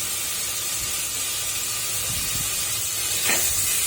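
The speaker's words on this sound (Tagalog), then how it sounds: "nagisa ako ng sibuyas, kamatis at bawang dyan" Onion, tomato and garlic sauté in a pan with a loud, steady steam-like hiss that runs throughout and swells briefly near the end.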